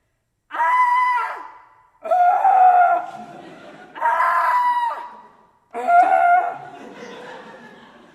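A person screams at high pitch with a wide-open mouth, four loud sustained bursts in a row with short gaps between them, close and clear.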